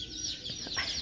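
Chicks at a Tractor Supply farm store give soft, overlapping peeps and cheeps against a steady background of indoor store noise, with several brief calls close together in about one second.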